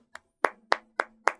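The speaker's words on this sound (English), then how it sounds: "slow clap." Slow clap: five single hand claps spaced about a quarter second apart, sharp and fairly close, with a faint steady hum underneath and no talk.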